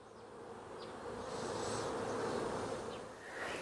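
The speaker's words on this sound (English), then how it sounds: "you get a migration of bees from the bottom box up to the top box" Honeybees in a hive, migrating from the bottom box up to the top box; a dense, close, continuous buzzing hum that swells gently and holds steady throughout.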